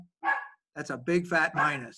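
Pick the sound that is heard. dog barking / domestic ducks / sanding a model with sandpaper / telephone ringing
dog barking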